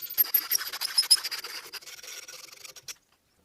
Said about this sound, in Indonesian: Kemudian dibentuk 4 cekungan dengan kikir.